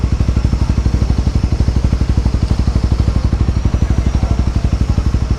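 A Honda CRF 300 motorcycle idles or rolls by close up with a rapid, even thumping single-cylinder beat, loud and steady throughout.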